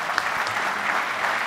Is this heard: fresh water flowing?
no